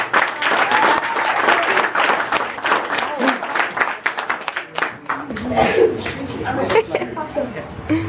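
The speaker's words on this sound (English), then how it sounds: "give them a round of applause." An audience at a school exhibition night claps loudly and steadily for several seconds, the applause thinning toward the end as scattered laughter and chatter come through.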